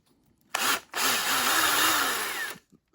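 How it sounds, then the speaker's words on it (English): A power drill bites into wood in a continuous whirring grind lasting about two seconds, close and loud, with a brief start before it and small knocks after. "Drilling that way is how I got that cut."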